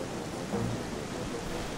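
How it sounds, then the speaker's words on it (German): Steady rain falls in The Legend of Zelda: Twilight Princess HD as an even, hissing wash of game ambience, with a soft low rumble swelling briefly. "jetzt regnet es natürlich"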